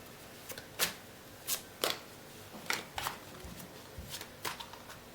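Tarot cards being shuffled and drawn, a series of crisp close riffling snaps and slides at irregular intervals, quiet in between.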